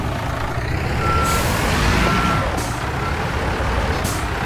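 A construction vehicle in Construction Simulator reverses with evenly spaced electronic beeps, about one per second, over a loud diesel engine rumble and occasional hisses of air brakes.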